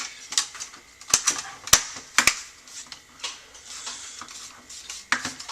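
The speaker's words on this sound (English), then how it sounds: "Need to put our plastic bezel piece back." A plastic bezel piece on an HP DV6700 laptop is snapped back into place, making a series of sharp, close plastic clicks and snaps at irregular intervals with quiet gaps between them.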